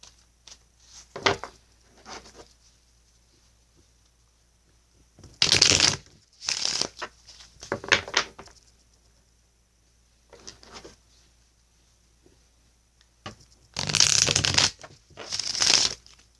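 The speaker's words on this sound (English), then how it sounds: "I'm going to do a couple of on-camera shuffles for you" Tarot cards are shuffled by hand in several separate bursts of riffling and rustling, loud and close, with quiet pauses between them.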